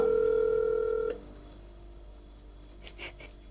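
A steady phone tone sounds for about a second and stops, followed by quiet line hiss and a few faint clicks.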